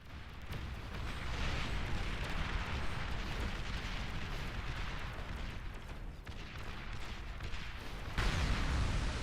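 A commander unit explodes in the strategy game Beyond All Reason: a sustained, loud rumbling blast with crackling debris across the whole span, swelling again near the end.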